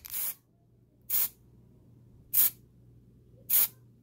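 Four short, evenly spaced bursts of spray paint hiss out for a faux marble kitchen finish, each about a quarter second long, close and fairly loud over a faint steady hum.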